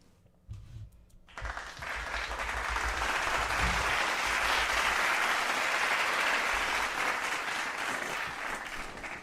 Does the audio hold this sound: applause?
yes